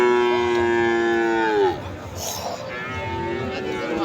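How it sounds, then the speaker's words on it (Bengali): A Sahiwal calf moos once, long, loud and close for about a second and a half and then breaks off, followed by a murmuring crowd at a cattle market. "দর্শক অনেক সুন্দর শাহিওয়াল বাচ্চা।"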